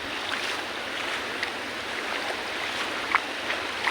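Steady wash of surf at Willy's Rock, a beach with rocky shoreline, a broad continuous roar of waves close by with a few brief splashes standing out, no voices.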